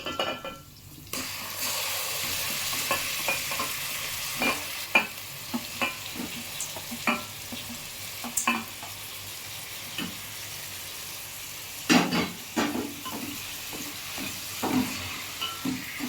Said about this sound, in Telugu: సో ఇప్పుడు ఈ చికెన్ని కూడా అందులో వేసేస్తున్నా చూడండి